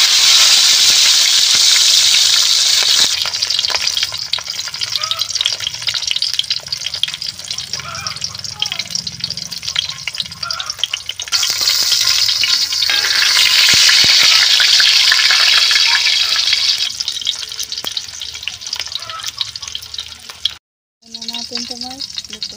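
Tilapia fish frying in hot oil, with a loud, constant crackling sizzle that swells and eases over a long stretch, broken near the end by a brief silence and a few faint knocks.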